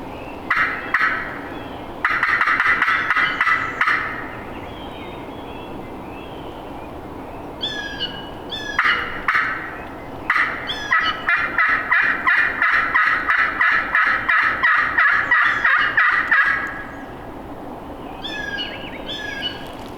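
A wild turkey gobbles repeatedly amid rapid clucking and yelping calls, loud and close, with bursts coming in quick rhythmic runs and brief pauses, during a turkey hunt in hilly country.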